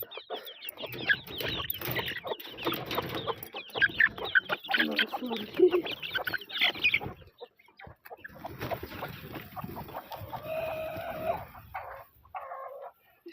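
Hens cluck and squawk repeatedly close by, with brief quieter gaps and occasional bursts of busier clucking.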